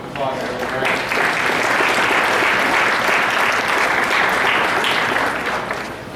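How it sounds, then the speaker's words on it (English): A holiday celebration audience claps for the McKinley Street Ensemble, a steady, full round of applause lasting about six seconds without a break. "Please give them a round of applause."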